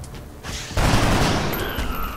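A burst of soldiers' weapon fire from XCOM: Enemy Unknown, a loud sustained volley that cuts in sharply and rolls on dense and near, like a fusillade, with no voices over it.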